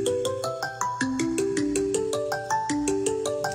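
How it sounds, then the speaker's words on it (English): Synth arpeggio programmed in Logic Pro: a fast, steady run of bright plucky notes stepping up and down in repeating patterns, loud and alone with no voices. "I added an arpeggio in Logic."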